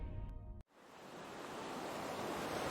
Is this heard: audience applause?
no